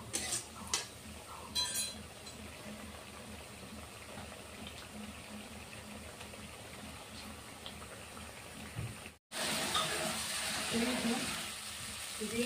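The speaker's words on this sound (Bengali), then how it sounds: "ততক্ষণে অল্প কষে নিই মশলাটাকে।" Spice paste stirred and frying in hot oil in a pan for a vegetarian jackfruit dish, a steady sizzle with scraping stir strokes close up, broken by a brief silent cut before the frying resumes louder.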